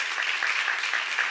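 Steady applause from an audience at a church seminar, a dense continuous patter of many hands clapping at a fairly close, even level with no pauses.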